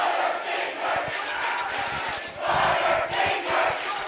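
A large crowd at a high school football game roars and chants loudly in surging waves, filling the stadium with sustained cheering and shouting.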